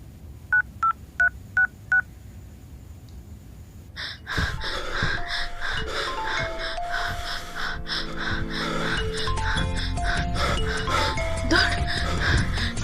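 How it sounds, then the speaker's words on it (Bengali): Four short touch-tone beeps ring out evenly as a telephone number is dialed, then a louder, busy stretch of music and mixed sound follows after a brief pause. "মালটাকে একটা ফোন করি।"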